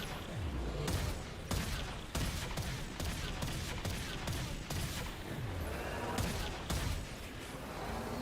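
Rapid automatic gunfire in the video game Warframe, near and loud, with dense continuous bursts broken by short pauses while enemies are shot down.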